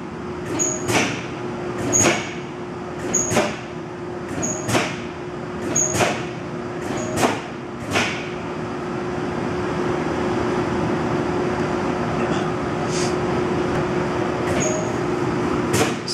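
A 1995 Rousselle 100-ton press in very good condition, jogged in inch mode, gives a series of sharp metallic clanks about a second apart, followed by a steadier running hum.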